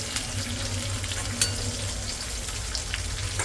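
Long chopped chillies toast in hot oil over low heat in a pan for a Maharashtrian potato bhaji, giving a steady, close, continuous sizzle and crackle with one brief sharper pop.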